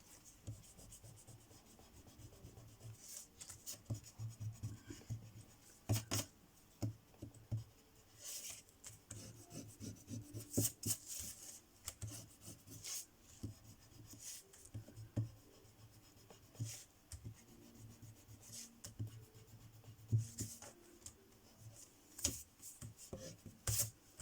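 An eraser rubs out pencil lines on a handmade card frame in quick back-and-forth strokes. The soft, papery scrubbing stays close and fairly faint, with brief pauses and light taps over a steady quiet background.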